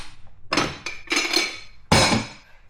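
Spoon set down on a spoon rest in a home kitchen while making scrambled eggs, giving three or four close, bright clinks and clatters of metal against a hard surface.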